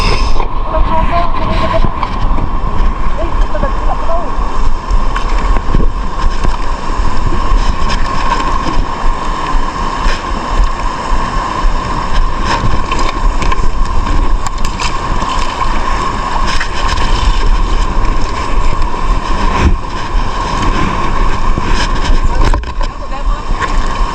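Small boat motor droning steadily on open water during a harvest outing, with wind and water noise throughout and people talking over it.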